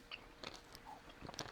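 Soft close-up chewing of a mouthful of peanut butter, a few quiet, sticky smacks and crunchy bites in an uneven rhythm, faint and alone.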